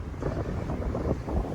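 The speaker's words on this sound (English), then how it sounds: "the winds have been relentless, non-stop, gusting higher and higher" Strong, relentless gusting wind on a beach hike along the Outer Banks between Rodanthe and Jockeys Ridge, buffeting the microphone in a loud, continuous low roar that surges and eases without any voices.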